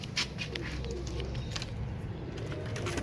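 Ali wala pigeons, a fancy breed kept in a loft, cooing softly over a steady low rumble of background noise, faint and continuous for a few seconds.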